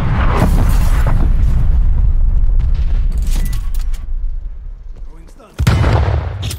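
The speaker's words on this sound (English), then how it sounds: "Hostile artillery targeting active. Net call. Incoming artillery." Incoming artillery strike in Call of Duty Cold War gameplay: loud, heavy booming explosions rumble continuously and fade over several seconds, then a sharp new blast hits near the end, with game voice callouts heard over it.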